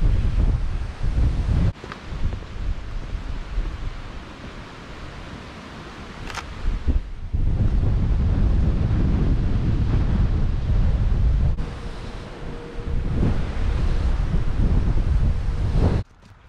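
Strong outdoor wind buffets the microphone in a loud, continuous roar with gusting surges and a couple of brief lulls, sounding like a breezy open setting near water.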